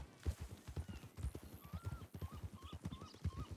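A horse in a video game carrying a body across its back, hooves clip-clopping in a steady, close rhythm throughout.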